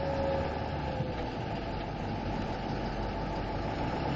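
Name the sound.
2006 Ford F550 truck engine while driving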